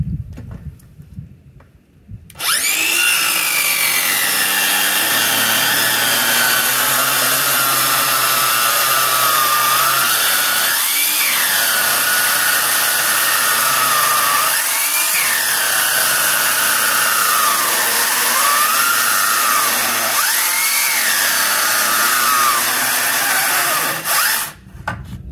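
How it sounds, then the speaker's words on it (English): A Bosch GKS18V-22L brushless cordless circular saw making a long rip cut through wood, a loud steady high whine after spin-up with periodic dips and rises in pitch as the blade loads, spinning down at the end. "Let's try a rip cut, these saws."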